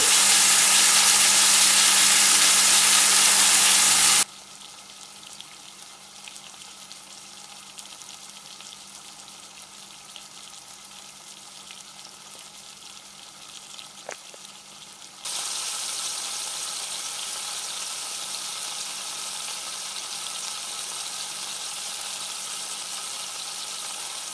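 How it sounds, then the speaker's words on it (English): Loud steady sizzle of beef chuck roast searing in hot oil, dropping to a quieter hiss partway through before rising again, with no voice. "And we are going to sear our chuck."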